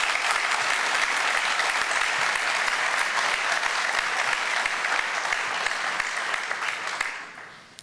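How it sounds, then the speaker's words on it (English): An audience at a welcome event applauds a speaker: continuous, lively clapping holds steady for several seconds, then tapers off quickly at the end. "please give him a round of applause"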